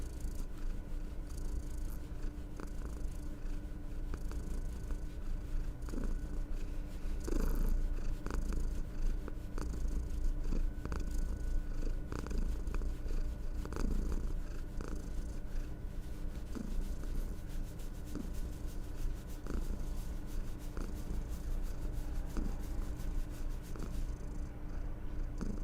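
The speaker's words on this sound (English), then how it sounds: "She did one loud purr there." Cat purring close by, a steady low rumbling purr continuing throughout with small scratches and taps from a nearby miniature-painting table.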